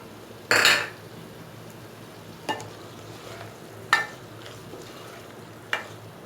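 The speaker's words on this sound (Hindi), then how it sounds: "अब मैं इसमें बड़ी मिर्ची शामिल करूँगी" A spatula stirs bottle gourd sabzi with a large green chilli in a pan. A sharp metallic clank comes first, then three softer scrapes and knocks spaced apart, over a low, faint sizzle with no talking.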